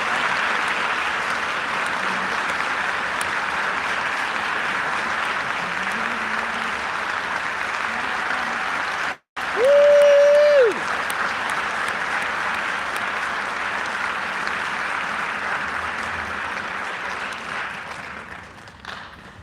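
Audience applause welcoming conductor Maestro Stanley Sperber at a do-it-yourself Messiah sing-along concert, a steady sustained wash of clapping from a large crowd lasting throughout, with a brief break near the middle and a short tone.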